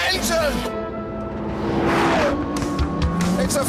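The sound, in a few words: Porsche Carrera GT 5.7-litre V10 engine driving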